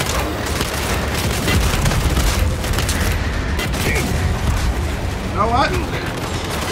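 Turret firing in the video game Gears 5, dense rattling gunfire and booms running throughout, loud and close, with someone talking over it.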